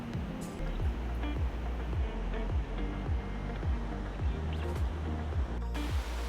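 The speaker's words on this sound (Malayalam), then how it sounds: "ഇവിടെ നിന്നാണ് വെള്ളം പതഞ്ഞ് താഴത്തേക്ക് ഒഴുകി പോകുന്നത്." Water foaming and rushing down Vazhachal waterfall, a dense continuous roar close by that stays loud and steady throughout.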